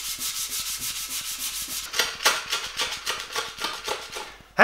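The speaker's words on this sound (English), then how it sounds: "sanding this frame." Paint is sanded off a carbon fiber bike frame in close, rhythmic back-and-forth strokes, quickening partway through.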